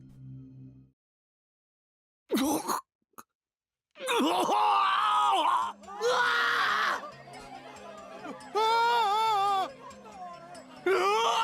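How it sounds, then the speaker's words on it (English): A crowd of students screaming in the visual novel game Chaos;Child, several loud wavering shrieks and groans overlapping after a short silence, rising and falling in separate outbursts. "everyone's screaming"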